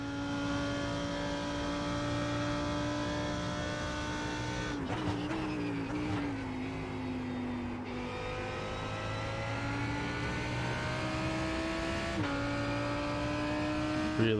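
A GT race car engine screams around Monza in a racing video game, a sustained high-revving whine with sharp drops at gear shifts and pitch swings through braking and acceleration.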